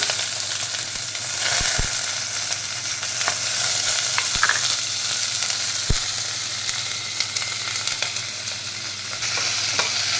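Onions, mustard seeds, cumin and green chillies fry in oil, a loud, even hiss close by, punctuated by sharp clicks of a stirring spoon against the pan, with no talking.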